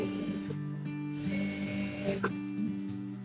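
A sewing machine stitches elastic onto children's pants in a droning, humming mechanical whir. The whir varies slightly in pitch and has a couple of small clacks, with no talking.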